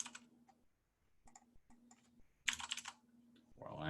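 Students in a computer science class clicking away at computer keyboards, bursts of quick, light key taps separated by brief pauses, close and fairly quiet, with a louder flurry of typing near the end.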